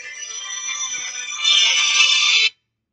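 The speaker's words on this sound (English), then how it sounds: "It's my kids' automated school phone." A phone rings with an automated school call, a loud, close electronic ringtone that grows brighter midway and stops abruptly after about two and a half seconds.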